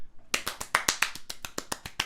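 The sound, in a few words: clap sound effect played on stream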